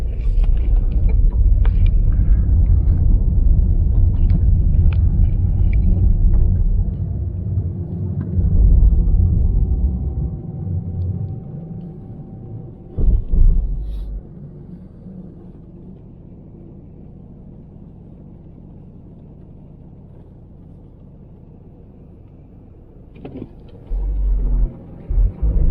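Road traffic rumbles past, heavy and close for the first several seconds, then thins to a quieter hum before another vehicle swells in near the end; no voices.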